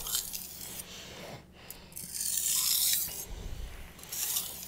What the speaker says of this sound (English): From knife sharpening.